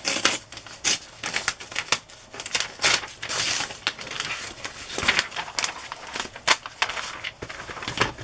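Scissors cut a picture out of a vintage magazine page, giving a close, irregular run of crisp snips, rustles and crinkles of paper being handled, with no talking.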